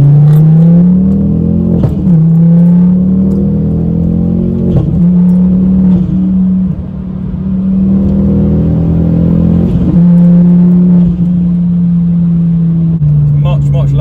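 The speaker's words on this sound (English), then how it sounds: "hopefully you can hear a bit more of the induction noise from inside the cabin" Cabin view of a Ford Focus ST225 Mk2 with a Proram air filter, a steady low engine drone with rising and falling induction tone as it pulls through the gears, loud and continuous from inside the car.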